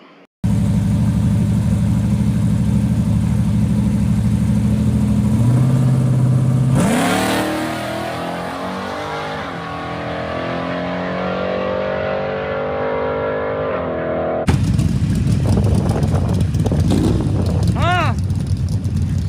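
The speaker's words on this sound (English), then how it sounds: "His work truck already has a LS3 headed engine in it." A deep LS3 V8 truck engine with AFR aftermarket heads idles up close, then revs sharply, settles back, and roars up again in another loud rev.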